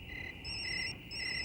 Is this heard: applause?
no